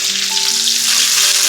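Coriander stems fry in oil over a low gas flame for a potato curry, giving a steady, bright sizzle close up that carries on without a break and without talk.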